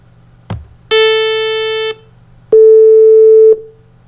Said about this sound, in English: The second sound was the sound of the single 440 hertz.